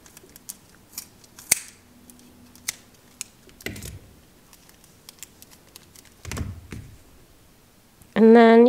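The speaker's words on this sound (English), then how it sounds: "Cut it across the bottom." Scissors snip through yarn in several sharp, close cuts scattered across the clip amid quiet handling noises, followed at the end by a person starting to talk.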